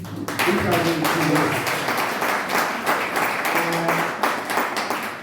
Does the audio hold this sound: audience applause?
yes